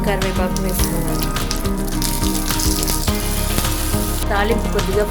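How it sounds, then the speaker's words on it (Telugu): Curry leaves tossed into hot oil with seasoning seeds, garlic and dried red chillies for tempering a chilli-brinjal chutney, giving a loud, steady close-up sizzle and crackle that fills the whole stretch. "కరివేపాకు వేసుకోవాలి."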